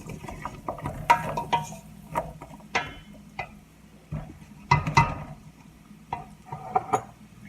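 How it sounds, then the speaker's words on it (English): Pea and vegetable soup stirred in a pot, with irregular scraping and clinking of a utensil against the pot's sides and bottom, close and moderately loud, in uneven bursts with short pauses. "Keep stirring it so the bottom will not burn"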